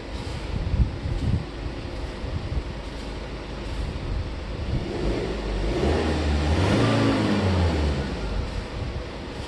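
A 2019 BMW 5 Series engine revs while the car sits in eco mode, a mid-pitched rising then falling engine roar heard from nearby over a steady background rumble.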